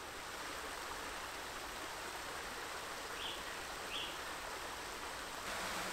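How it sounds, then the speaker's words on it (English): The Striper River in a western Ukraine canyon cascades down rocky steps, giving a faint, steady, even rush of falling water with no breaks. "The Striper River winds through a canyon, cascading down steps to form numerous small and large waterfalls."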